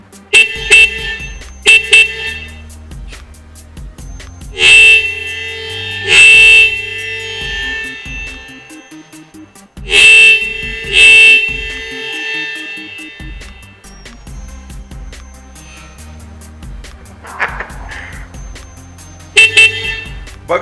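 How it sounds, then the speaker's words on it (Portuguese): Twin motorcycle horns taken from a CBX 250 Twister blare in loud, short bursts, sounded in pairs of honks separated by pauses, close and piercing. "Isso aqui são duas buzinas de CBX 250 Twister, cara."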